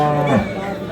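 A heifer calf or cow moos once at a busy village cattle market, a loud close low call lasting under a second over background crowd noise.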